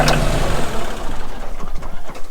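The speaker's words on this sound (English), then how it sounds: "Let me get this tractor turned off." Tractor engine idling close by, a loud rough rumble with uneven chugging pulses that fades and turns choppy as it winds down, no voices.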